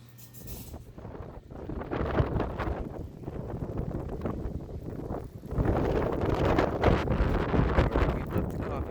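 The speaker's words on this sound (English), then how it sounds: "The wind's pretty good since I got in there about 15-20 minutes ago." Strong nor'easter wind during a snowstorm in Bath, Maine, roars and buffets the microphone in loud gusts that surge and swell over nine seconds, with no one speaking.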